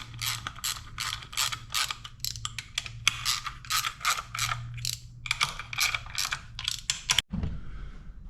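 A hand ratchet clicks in quick, repeated bursts while bolts are tightened down evenly on a TH400 automatic transmission, close and loud with short pauses between strokes, ending in a sharp clank.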